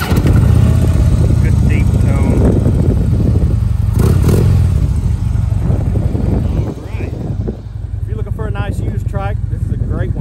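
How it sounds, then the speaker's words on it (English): A 2015 Harley-Davidson Freewheeler trike with Cobra slip-on exhausts rumbles and revs loudly up close, settling to a lower idle, with someone talking briefly near the end. "Cobra exhaust sound really good as well."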